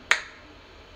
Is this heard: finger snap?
yes